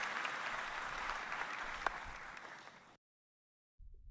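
Audience applause, a dense, steady wash of clapping that holds evenly for about three seconds and then cuts off abruptly into silence before a faint low sound returns.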